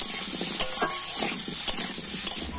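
Potatoes frying in hot oil with turmeric and salt, a steady close sizzle with brief stirring clinks from a utensil against the pan, no talk.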